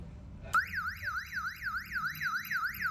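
An alarm on a closed-house chicken coop sounds for a blower failure: a loud electronic siren switches on abruptly and wails in a fast, repeating up-and-down sweep.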